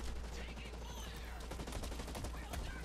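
Dense, continuous gunfire rattles through a free-to-play first-person shooter on PS4, with rapid overlapping shots and bursts and a constant loud background of in-game noise.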